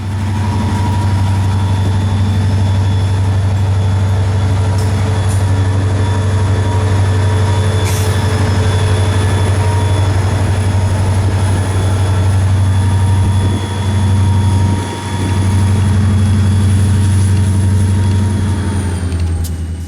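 A Florida East Coast freight train shoves slowly south through the New Smyrna Beach rail yard, its diesel locomotive holding a loud steady low drone with faint wheel squeal and a brief hiss of air.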